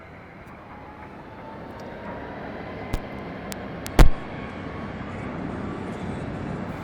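An airliner takes off or lands at Las Vegas airport, a broad, distant jet roar that slowly swells over several seconds, with a few sharp clicks and a brief loud bump partway through.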